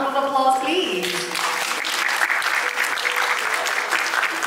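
An audience at a startup demo day panel applauds as a guest partner from a venture firm walks on stage; steady, dense clapping fills the room after a brief start with a voice and music-like tones at the very beginning.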